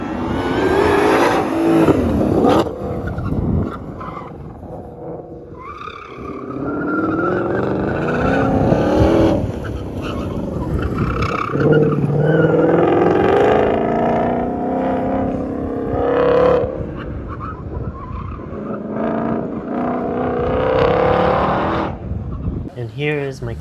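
A Lexus GS300 on an autocross run through a slalom at a PCA event, with its engine revving up and down repeatedly and tires squealing through the turns, recorded from inside the car with a voice talking over it throughout.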